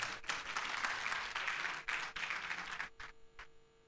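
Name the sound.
audience applause at summit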